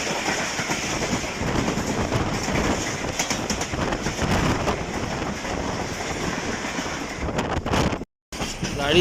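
Awam Express passenger train rolling on the tracks as it approaches Jampir railway station in Sindh, a loud, steady rumble with rhythmic wheel clatter throughout, cutting out briefly near the end.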